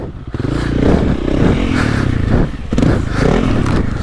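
A stock Honda CRF300L dirt bike, around 20 horsepower, revs hard as it powers up and accelerates on a dirt track, the loud engine note rising and falling continuously with rattling and scraping underneath.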